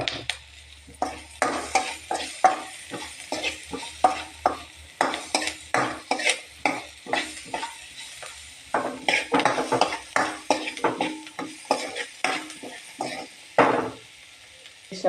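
Garlic sizzling in hot oil in a pan for a Kerala jackfruit masala curry, with steady frying hiss broken by frequent scraping and clinking stir strokes of a spoon against the pan, close and moderately loud.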